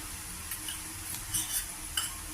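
A spoon stirs gram flour into onions and cabbage frying in a pan, giving faint soft scrapes and a few light metallic clinks over a low sizzle.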